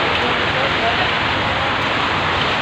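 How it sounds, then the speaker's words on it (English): Rain falling in Doha, Qatar, a dense continuous hiss of drops on surfaces, close and fairly loud, steady for the whole stretch. "It's raining inside Doha."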